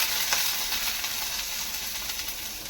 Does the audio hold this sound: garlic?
yes